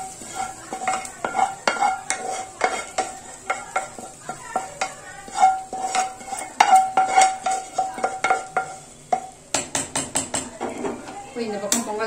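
A tempering of spices fries in ghee and oil in a pan, with steady sizzling under repeated clinks and scrapes of a spoon stirring against the metal, while a voice talks throughout.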